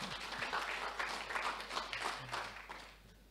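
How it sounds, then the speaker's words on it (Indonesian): A church congregation claps at a Sunday service, a steady patter of moderately distant applause that holds on and then fades away near the end. "Tepuk tangan buat Tuhan Yesus."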